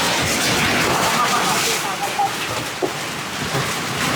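Heavy rain pounding down outdoors and suddenly growing stronger, a loud dense roar of water filling the whole stretch with a few sharper splashes and knocks breaking through.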